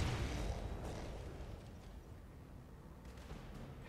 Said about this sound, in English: Commencing Alpha Strike.